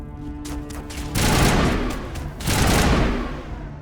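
Shotgun fire in the video game Mass Effect Legendary Edition, loud booming blasts with a sustained roaring rumble, two heavy bursts close together amid the din of battle.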